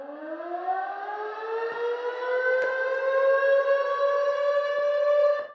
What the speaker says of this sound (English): And an alarm.